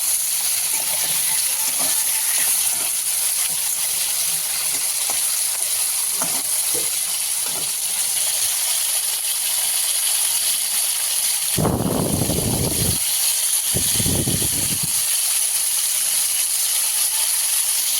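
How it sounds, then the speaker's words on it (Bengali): Pieces of fish frying in hot oil in a kadai, a steady close sizzle and hiss with a few louder bursts of spattering as the pieces are moved or turned. "তেল গরম হয়ে গেছে, এবার মাছগুলো আমি ভেজে নেব।"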